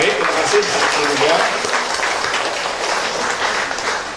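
A church congregation applauds at a thanksgiving Mass marking World Food Day, a broad burst of clapping that slowly thins, with voices mixed in.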